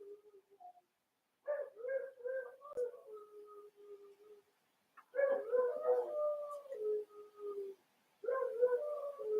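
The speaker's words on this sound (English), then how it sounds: "Y'all hear that dog?" A dog howls in long, wavering bursts separated by short silences, three drawn-out howls rising and falling at moderate distance with no talking over them.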